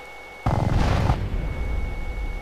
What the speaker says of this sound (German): Ich baller hier irgendwas mit 150 Schuss auf einen.